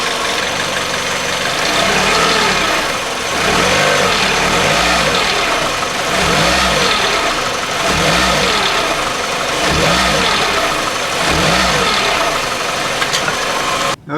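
A car engine with a torn motor mount runs nearby, idling and repeatedly revving up and settling back in a steady rhythm of surges.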